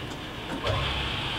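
A Hardinge super precision tool room lathe running in low range gives a short, fairly quiet steady whir with a low motor hum that rises slightly as it speeds up.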